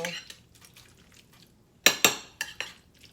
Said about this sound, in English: just mix that up real good with some celery and shallots, creole seasoning.